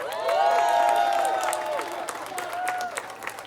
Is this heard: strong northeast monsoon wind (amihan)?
no